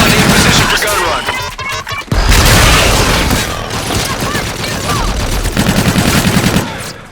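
Gun-run gunfire in the Call of Duty Infinite Warfare video game: loud, dense bursts of rapid automatic fire and heavy booming impacts close by, with crashing debris and a voice briefly heard under the barrage.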